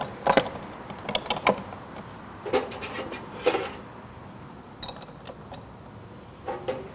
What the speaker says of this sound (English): I'm gonna get the grinder set up